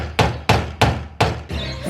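Four sharp, evenly spaced hammer blows ring out close and loud, metal on metal as the fenders of a Nissan R33 are rolled for clearance, followed by a lingering resonant tail.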